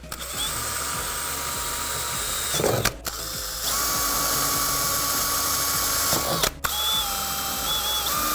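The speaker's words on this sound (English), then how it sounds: "And now we can drill out the holes." Drilling holes to mount Rally Innovations aluminum side skirts on a 2015-2020 Ford Mustang GT350, a steady close whirring drill run in two long bursts with brief pauses between them.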